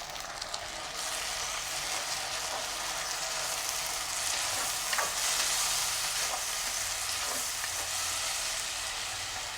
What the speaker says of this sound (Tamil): பாருங்க, தக்காளி பழம் எல்லாம் இந்த மாதிரி வதங்கின அப்புறம்